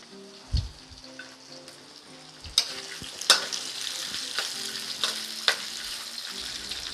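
Luk niang beans are stir-fried with shrimp paste, with a close sizzling hiss that rises partway through, punctuated by sharp spatula knocks and scrapes against the pan.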